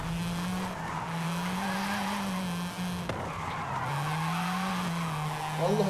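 A modified Mazda RX-7 drifts in Forza Horizon 5, its engine holding a steady drone as tires skid and squeal continuously, with a brief dip midway before the loud slide resumes.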